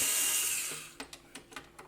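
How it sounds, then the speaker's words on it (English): Debris crunching inside the rotating mechanism of a Pioneer PL-A35 turntable: a fading broadband whoosh gives way to five sharp, evenly spaced gritty clicks, close and fairly quiet, with no talk. "Got some crunchies in my Lazy Susan has been sitting on the floor"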